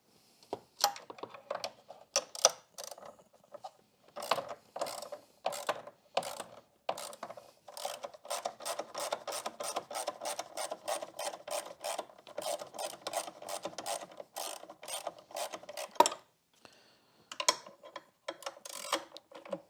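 A ratchet backs out the bolts on the battery hold-down bar of a Renault Scenic 3. It makes quick bursts of close, crisp clicking in uneven runs, with short pauses between strokes.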